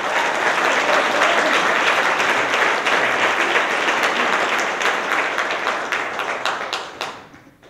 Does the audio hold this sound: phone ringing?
no